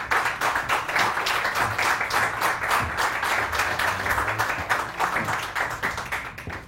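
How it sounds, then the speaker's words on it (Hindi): Sustained applause from a studio audience on a Samaa TV morning show, dense steady clapping throughout with faint voices mixed in. "बहुत सारी तालियां आमना के लिए"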